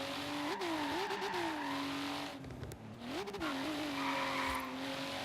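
A Volvo 850R being drifted, its engine droning steadily with rising and falling revs and a dip in the middle, while tires scrub and slide on the surface throughout.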